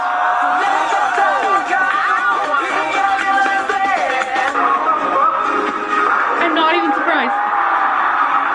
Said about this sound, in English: I hear a crowd